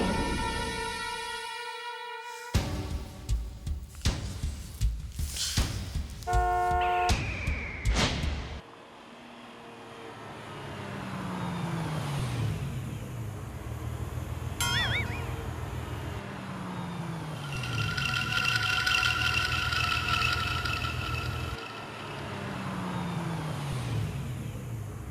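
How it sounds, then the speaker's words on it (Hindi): A car arrives in a housing society at night, an engine rumbling and passing with repeated swells over about fifteen seconds, following earlier clattering and dramatic musical stings. "इस वक्त सोसाइटी में गाड़ी? कौन आया?"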